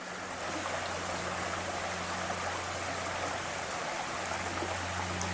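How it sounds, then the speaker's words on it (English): A small creek flows just behind a parked van in the Adirondack Park woods of New York, a steady close rush and babble of water running without pause, with a low hum underneath. "right behind us is this little creek running by here"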